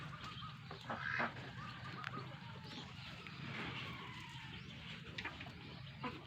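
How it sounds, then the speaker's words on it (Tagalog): Peking ducks and other fowl on a breeding farm, faint scattered quacks and honks in the distance over a low steady background hum. "So dito naman sa kabila ay Peking duck."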